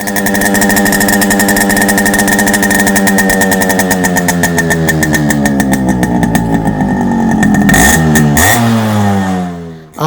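A Yamaha RX-100 motorcycle engine revs loudly and close by, its pitch rising and falling through steady throttle blips before cutting off near the end.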